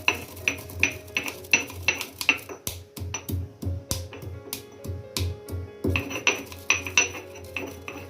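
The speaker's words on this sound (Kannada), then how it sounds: "ಹುರಿದಿರೋದನ್ನ ನೀಟಾಗಿ ಪೌಡ್ರ್ ಮಾಡ್ಕೊಳ್ಳೋದು" Roasted spices for a raw mango rasam are pounded by hand into powder, giving a steady rhythm of close, hard thuds with a clinking ring on each strike, continuing throughout with a brief lighter stretch mid-way.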